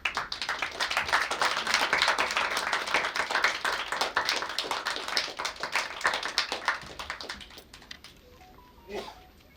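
A standing audience at a Yuddhakaanda film event claps warmly for the team, a dense sustained round of applause that gradually thins into scattered claps and a few voices toward the end.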